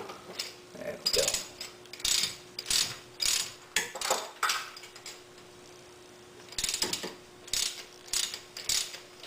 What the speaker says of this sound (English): Snug with the ratchet.